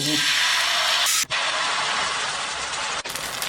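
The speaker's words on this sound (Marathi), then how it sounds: "आता ही मिश्रण आहे ना पळीनी तव्याच्या मध्यभागी घालू" Rava uttapam batter is poured onto a hot, oiled nonstick tawa, giving a loud continuous sizzle and hiss that cuts out briefly twice.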